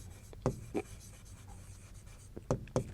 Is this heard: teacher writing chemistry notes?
yes